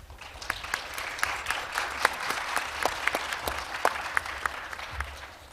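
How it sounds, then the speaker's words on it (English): Audience applause at an international judicial conference hall, a steady wash of many hands clapping with sharp individual claps standing out, moderately loud and sustained throughout with no talk. "Please give him with a big round of applause."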